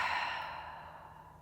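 A single slow, deep exhale, soft and close, trailing off gradually like a relaxed sigh, during a yoga class.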